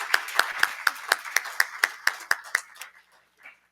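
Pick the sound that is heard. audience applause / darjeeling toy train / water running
audience applause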